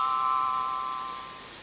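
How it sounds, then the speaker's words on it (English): A single soft bell chime signalling a page turn on a children's read-along story cassette, a clear ringing tone that fades gradually over under two seconds, heard alone. "When it's time to turn the page, you'll hear the sound of the bell like this."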